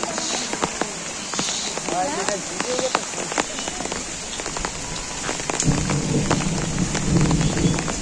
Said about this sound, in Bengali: বৃষ্টি এত পরিমাণে বৃষ্টি হচ্ছে মানে আমাদের গ্রামে